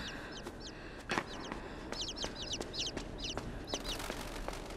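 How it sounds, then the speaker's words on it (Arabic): Ambient birdsong in the video game INSIDE, short repeated chirps scattered over a steady outdoor hiss with a few soft knocks, no talking. "جو العصافير ده"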